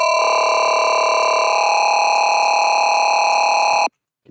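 Sustained dubstep synth tone with ring modulation, FM and tube distortion, a gritty mid-range sustain built from stacked steady harmonics, held loud and even for nearly four seconds before cutting off abruptly to silence.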